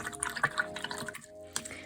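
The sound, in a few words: rinsing paintbrushes in water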